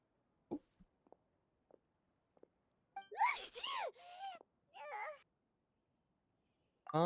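A character in the video game Genshin Impact gives a loud voiced sneeze, followed by short vocal sounds, after scattered faint clicks in an otherwise quiet scene.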